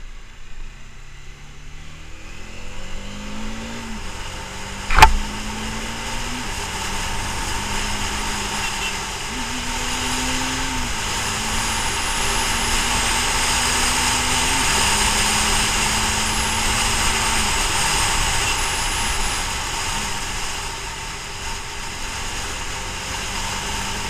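A Bajaj Dominar 400 motorcycle rides along with its engine note rising in stepped pitches as it shifts up through the gears, steady wind and road noise throughout and a sharp knock early on.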